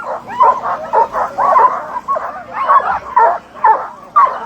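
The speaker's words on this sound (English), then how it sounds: "Those dogs are excited to run." Several sled dogs at a Minnesota race start bark, yip and whine excitedly in close, overlapping bursts, a steady noisy chorus with no pauses.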